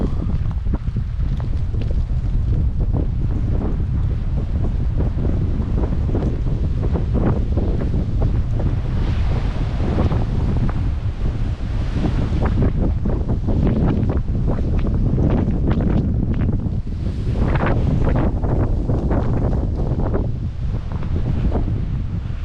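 Strong, freezing-cold wind blows across a mountain trail near Gatlinburg, Tennessee, buffeting the microphone in a loud, continuous roar with gusts rising and falling throughout.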